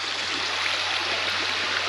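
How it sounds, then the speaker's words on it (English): Steady, full rush of water pouring from a newly started pump in a rebuilt garden pond, a constant close splashing wash with a low hum beneath and no talk. "So we're going to turn on the pump and see what happens."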